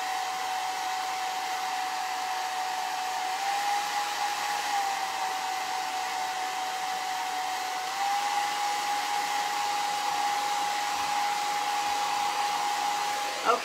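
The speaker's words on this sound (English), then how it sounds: "I use my cold shot right here on my hair dryer" A hair dryer on its cold shot setting blows continuously at close range, a steady rushing air noise with a thin motor whine running through it.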